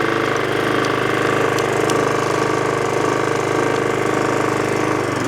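A Troy-Bilt 28-inch lawn mower engine runs with its blades engaged, a loud, steady close drone with a fast regular pulse and no pauses or talk.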